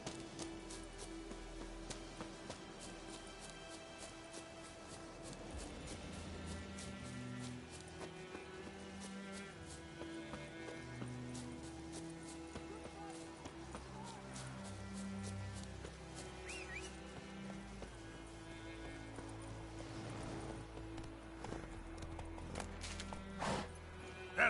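Hooves of the horse Roach clip-clopping at a steady rhythm in a PS4 video game, with an occasional whinny, set against a continuous bed of game music and ambience at a moderate level.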